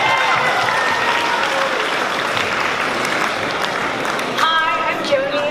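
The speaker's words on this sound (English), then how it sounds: "so big round of applause for everyone" A community meeting crowd breaks into a round of applause for team placings, dense and close clapping that holds steady with a few whoops and voices rising near the end.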